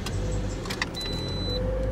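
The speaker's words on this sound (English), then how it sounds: "Let's turn the car on." A car's engine is turned on, giving a low rumbling idle close by with a brief high electrical whine over it, and no one speaking.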